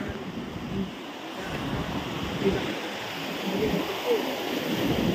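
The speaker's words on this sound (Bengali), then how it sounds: "জলের আওয়াজ সত্যিই ভয়ঙ্কর, দেখে শুনে যেতে হবে" Rushing mountain stream water near a waterfall in Mana village, Uttarakhand, a steady loud broadband roar that continues without pause close by.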